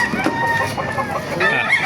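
Several chickens cluck and squawk close by in a busy, continuous chorus at a chicken market in Baliuag, with a rooster crow mixed in.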